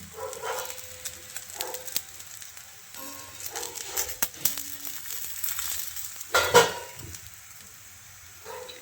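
Aloo methi paratha frying in desi ghee on a hot griddle, a steady close sizzle with bursts of crackle as the flatbread is shifted and pressed, and a brief louder spatter near the end.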